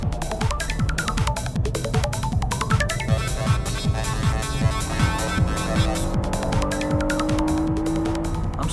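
A BMW M3 sliding on a race track, its engine revving hard in a rapid, throbbing rhythm with a rising whine of tires, loud and close throughout.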